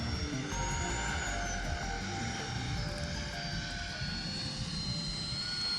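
FMS Rafale 80mm EDF radio-controlled delta jet flying, a steady whooshing ducted-fan whine with a faint high tone drifting in pitch, moderately distant and continuous with no talk.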